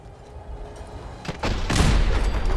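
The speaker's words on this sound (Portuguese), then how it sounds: "E mais um míssil aqui." A missile launched in the video game Fallout 4 Far Harbor, a rising whoosh followed by a loud booming blast that rumbles on to the end, close and heavy.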